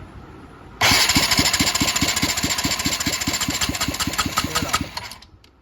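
A TVS Ntorq scooter engine starts abruptly and runs loud and close with a rapid, even chugging beat for about four seconds, then cuts off.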